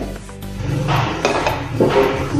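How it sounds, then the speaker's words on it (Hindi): A metal pan set down on a home kitchen stove while cooking stuffed eggplant, a few close clanks and scraping knocks of cookware, short and loud, with no talk. "अभी मैंने पैन रखा है"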